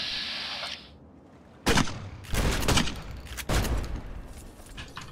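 Grenade launcher in Fallout New Vegas firing three times, each a heavy booming blast spaced about a second apart, trailing into rumbling decay.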